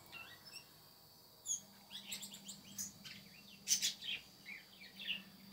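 Small songbirds, a bico-de-pimenta and a canary, chirp and tweet in quick, scattered bursts over a quiet background, with several brighter, closer calls mixed among fainter ones.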